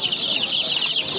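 Chicks cheep in a dense, continuous high-pitched chorus close by at a poultry bazaar, with faint clucking and low background noise beneath.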